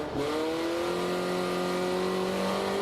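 A drift car at its first drift competition accelerates hard in third gear, the engine holding a loud, steady rising drone close by without any talk.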